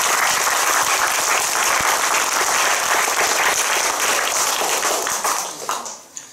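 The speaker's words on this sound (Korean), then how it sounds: "우리 성가대에게 큰 박수로 우리 축복합니다." Dense applause from a church congregation for the choir during an Easter service, steady and full for several seconds before tapering off at the end.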